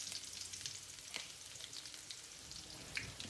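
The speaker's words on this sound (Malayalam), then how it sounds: "നമുക്കൊരു 1/4 സ്പൂണ് കടുക് ഇട്ട് കൊടുക്കാം." Mustard seeds spluttering in hot oil while tempering for a Kerala-style puli inji: a steady, fairly quiet crackling sizzle broken by a couple of sharper pops, with no voices.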